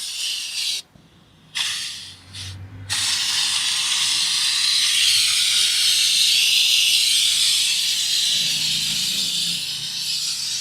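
A steam cleaner works on car seats in a car wash and detailing studio. Two short hissing bursts with brief pauses give way to a loud, steady, close hiss of steam that continues to the end.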